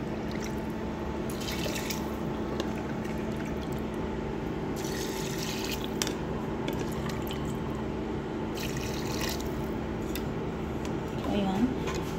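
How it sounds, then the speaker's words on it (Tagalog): Water poured slowly into a pot of rice for cooking at home, a steady soft trickle and drip running through the whole stretch at moderate level over a constant low hum, with brief brighter splashy bursts. "nalagay ko na yung rice. Ito yung tubig niya, dahan-dahan ko siyang ilalagay."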